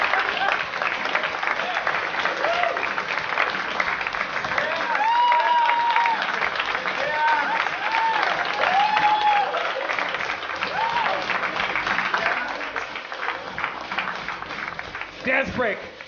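A live podcast audience in a theater claps and cheers for host Dan Harmon, a long, dense wash of applause and crowd noise with whoops, running steadily throughout with voices mixed in.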